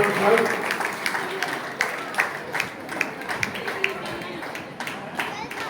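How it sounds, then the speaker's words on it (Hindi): An audience claps at a community student-honouring award ceremony. Sharp, uneven claps ring out through the whole stretch, louder at first and then thinning, with a voice talking over them. "जोरदार ताली बजाइए"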